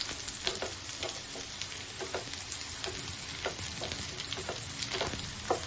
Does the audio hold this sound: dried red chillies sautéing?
yes